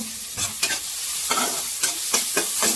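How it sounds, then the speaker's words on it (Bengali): Chopped garlic fries in ghee in a pan, a steady sizzle broken by several brisk scraping strokes of a spoon stirring it. "রসুন কুচিটা আমি লাল করে ভেজে নেব"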